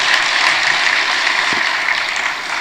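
A church congregation claps for a pastor, a dense, steady burst of applause close by that carries on for a few seconds before easing slightly at the end.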